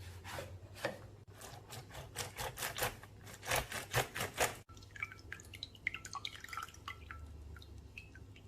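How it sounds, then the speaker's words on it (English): Two lemons are squeezed by hand, giving a run of close, rhythmic wet squishes and drips, followed by quieter scattered drips and rubbing sounds. "2 lemons squeezed."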